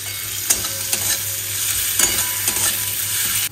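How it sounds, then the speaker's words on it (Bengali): Bottle gourd pieces sizzle and crackle steadily in a hot frying pan while being stirred, with a few sharper scraping knocks of the spoon roughly every half second, close and moderately loud with no voices. "একটু ভাজা ভাজা করে নেব।"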